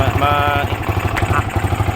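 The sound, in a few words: Yamaha R15 V2 motorcycle engine cold start, sputtering idle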